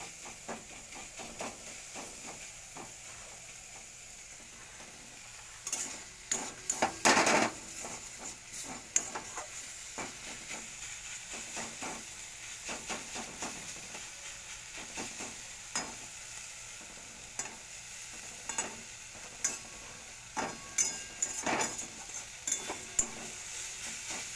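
Jute leaves frying in plenty of oil in a pan, with a quiet, steady sizzle broken by irregular scraping stirs of a utensil throughout; no one speaks.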